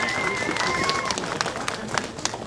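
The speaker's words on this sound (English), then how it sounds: "Can you please give them a round of applause?" An audience applauds the Holtzville Fire Department, with steady dense clapping, cheering voices and a couple of whistles running throughout.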